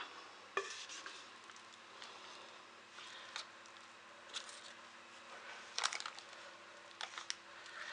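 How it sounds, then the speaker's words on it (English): A spatula scrapes gluten- and dairy-free carrot cake batter from a bowl into a baking tin, making soft intermittent scrapes and light clinks against the bowl, quiet and close. "they are very good at getting every last little bit of cake mix out of the bowl and where it should be, which is into the tin"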